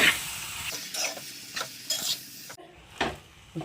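Vadukapuli lemon pieces being stirred into a pan of lemon pickle, with a soft sizzle beneath repeated scraping strokes of the spoon against the pan; the strokes come in irregular bursts, close up and without talk.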